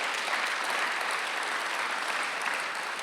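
A church congregation at a Sunday worship service breaks into steady, even applause, a dense wash of clapping that stays constant throughout.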